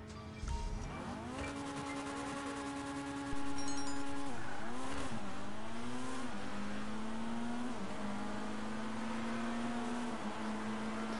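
A Ford Fiesta engine in a GTA race against supercars drones steadily, pitch rising through the gears with shifts and dips, alone and fairly close.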